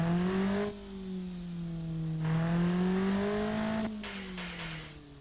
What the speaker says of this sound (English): it's not a bad sounding engine